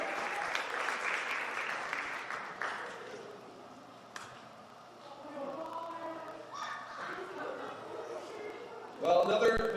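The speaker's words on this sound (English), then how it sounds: "can we get a round of applause for another mystery singer entering?" Audience applause at a school staff talent show, a broad wash of clapping and crowd noise that gradually fades, then mixes with murmuring and brief voices, with a louder burst near the end.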